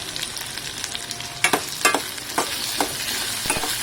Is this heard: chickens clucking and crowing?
no